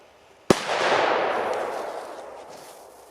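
A firecracker, apparently a P1216 (FP3) or PP3 Kometa 2g banger, goes off outdoors with one sharp, deep, bassy bang followed by a long rolling echo that slowly fades over a few seconds.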